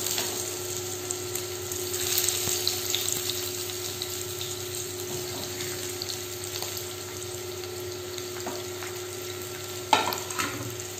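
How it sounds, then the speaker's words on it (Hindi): Stuffed bitter gourds fry in hot mustard oil in a pan over medium flame, giving a steady soft sizzle with occasional light clinks of utensils, fairly quiet and unbroken. "फिर इसको सेकेंगे चारों तरफ से ताकि ये तेल में अच्छे से फ्राई हो जाए"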